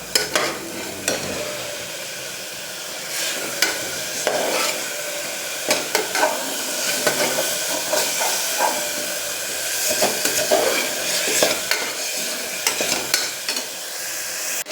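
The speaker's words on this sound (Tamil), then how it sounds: "அந்த மாதிரி லெவலுக்கு நல்லா ஃப்ரை பண்ணிகிட்டே இருப்போம். கொஞ்ச நேரம் விட்டு விட்டு கை விட்டு விட்டு கிளறிட்டே இருப்போம்." Tomatoes frying for banana flower biryani, a loud continuous hiss and sizzle with repeated scraping and clanking of a ladle against the pot as the mixture is stirred over and over, close up and without speech.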